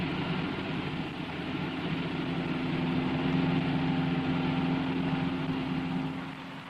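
A Lancia car's engine drones steadily as it approaches, a continuous mid-pitched hum that swells slightly and then eases, with no voices.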